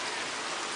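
Rain falls in a brief, steady, even hiss of countless drops, close and unbroken, with no voices.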